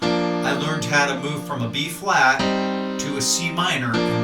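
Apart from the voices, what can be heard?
No everyday noise stands out behind the speech.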